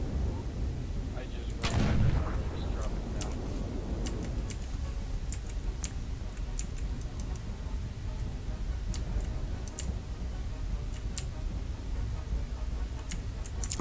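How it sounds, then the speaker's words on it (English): Weapon fire rings out in a MechWarrior Online battle: a heavy low boom early on, then scattered sharp ticking clicks and distant shots over a constant low rumble of mech combat. "I hear shooting on my left."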